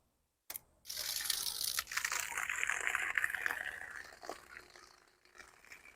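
An electric water pump in a bucket forces water through about six feet of half-inch PVC pipe, a steady rushing gush that starts abruptly, holds for several seconds, then fades.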